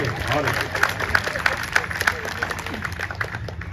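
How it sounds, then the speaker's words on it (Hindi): Audience applause at a humorous poetry festival in Pritam Nagar, Prayagraj, sounds as a steady clatter of many hands with sharper claps poking through, moderately loud and sustained, mixed with crowd murmur. "एक बार जोरदार तालियां बजाइए।"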